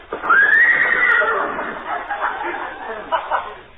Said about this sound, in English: Sounded like a horse to me.